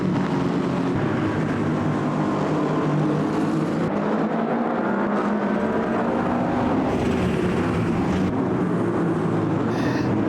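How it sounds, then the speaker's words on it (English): A BMW GT3 race car engine in the sim racing game Automobilista 2 roars loudly and continuously, its pitch rising and falling as the car accelerates and shifts, with no talking over it. "The noise of that Beamer is mega"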